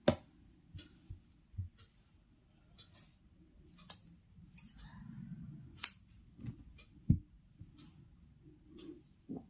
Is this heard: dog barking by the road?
no